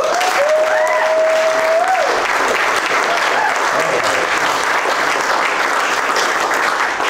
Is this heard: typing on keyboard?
no